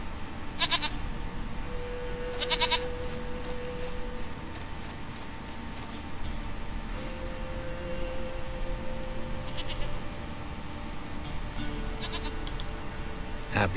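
A goat in the video game Witcher 3 bleats several times in short, strained cries over a steady ambient drone, mostly near and fairly loud, with brief bursts spaced across the scene.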